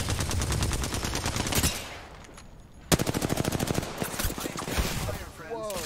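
Loud automatic gunfire in the video game Apex Legends, with fast rapid-fire bursts that break briefly and then resume in dense volleys.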